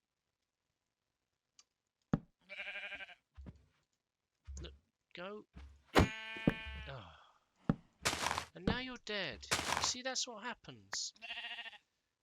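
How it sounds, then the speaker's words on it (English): Blocky sheep in Minecraft bleat several times in short bursts amid clicking game sounds, while someone talks over them. "Fucking sheep."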